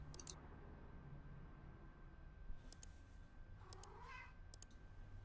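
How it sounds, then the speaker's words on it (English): A cat meows in the video game Telling Lies, a few short, faint calls with brief clicks over quiet background hum and no talking. "Cat."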